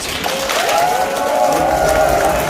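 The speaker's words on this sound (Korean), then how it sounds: "큰 박수 부탁드립니다." Sustained audience applause fills the hall at the launch ceremony of a political supporters' welfare forum in Gyeongbuk, South Korea: dense and steady, with crowd noise and a faint tonal hum running underneath.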